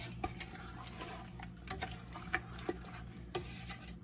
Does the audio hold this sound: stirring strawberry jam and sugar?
yes